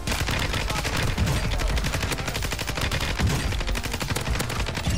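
Rapid automatic fire from a Lachman 556 assault rifle in a Call of Duty match, loud continuous bursts of close gunshots hammering without pause, with other game sounds underneath.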